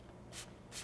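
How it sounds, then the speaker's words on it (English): A spray bottle of beard oil made from coconut, almond and argan oils with essential oils, giving two short hissing spritzes about half a second apart, quiet and close with no talk. "it sprays just like a spray"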